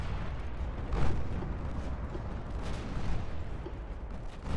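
Naval gunfire in the warship strategy game Ultimate Admiral: Dreadnoughts, with heavy booming salvos rolling under a constant rumbling roar, a couple of louder thuds standing out.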